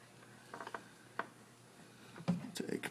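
Oil drain plug being threaded back into the oil pan of a 2005 Toyota Tundra with a 4.7L engine during a 120K service, quiet clicking and ratcheting taps in short clusters, close and faint.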